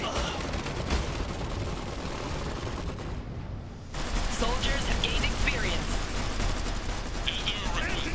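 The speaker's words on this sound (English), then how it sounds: "open fire." Battle sounds from units opening fire in the Iron Harvest strategy video game: dense, continuous gunfire and explosions form a noisy wash, briefly dropping out before resuming, with voices talking over it.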